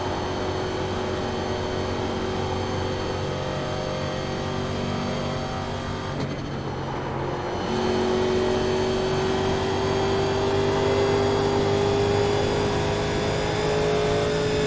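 A 1987 NASCAR Legends race car engine drones steadily in the iRacing game at Indianapolis. Its layered tones shift midway, then a rising pitch line climbs as the car accelerates, loud and continuous with no talk.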